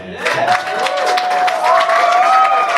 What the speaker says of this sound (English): Big round of applause to the band and the BIS.